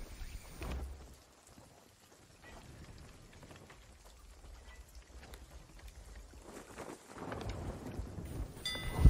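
Rain and a thunderstorm in the pirate video game Sea of Thieves, with steady rain hiss and low rolling rumbles that swell toward the end, heard alone without talk.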